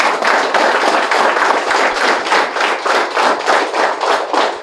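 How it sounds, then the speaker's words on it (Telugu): Steady audience clapping for a couple at a one-day spiritual workshop, dense and continuous with a rhythmic pulse, loud and close throughout with no speech over it. "మరొకసారి ఈ గ్రేట్ కపుల్కి ఒకసారి గట్టి క్లాప్ చేద్దాము."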